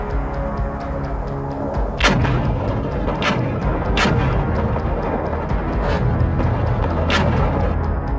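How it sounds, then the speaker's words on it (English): Heavy booming blasts of ATACMS missile strikes, several of them spaced a second or two apart, over a constant low rumble, like distant artillery or explosions. "the missile's steel fragments descended very quickly towards the target, resulting in a tremendous explosion impact"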